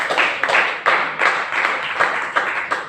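A church congregation claps in praise of Jesus, with loud rhythmic applause of many hands in an even, steady beat close by.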